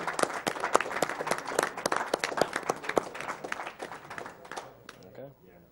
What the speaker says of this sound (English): Can we get a quick round of applause for those guys?